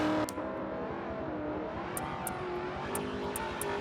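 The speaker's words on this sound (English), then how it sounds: "Car sounds healthy." Race car engine in a sim racing game at Sebring, a steady droning whir of the motor with brief sharp clicks now and then, continuous and moderately quiet.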